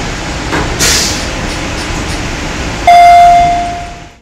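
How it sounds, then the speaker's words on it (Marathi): Interior of an Australian double-decker passenger train carriage: a constant loud rumble of the ride, a brief clank near the start, then a sustained bright chime or tone sounding toward the end as the noise swells. "तर हे पहा, ही आहे ऑस्ट्रेलियातली ट्रेन."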